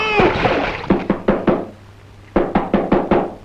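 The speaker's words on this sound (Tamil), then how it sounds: "யார் யா தோட்டத்துக்கு கதவை தட்டுறது" Two bursts of loud, hollow knocking on a wooden garden door in a film scene, four or five firm raps each, close by, separated by a short pause.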